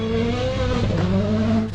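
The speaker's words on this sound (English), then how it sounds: "We can hear in the distance some cars coming." Rally cars at WRC Rally Finland 2023 near a forest junction, engine drone rising and shifting pitch as they come in from a distance, steady and fairly loud, heard alone.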